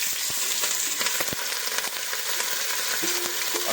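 Jumbo sausages sizzle steadily in a very hot pot of oil for jerk cooking, a dense continuous crackle with a few sharper pops and a brief clink of utensil against the pot near the end, no voices.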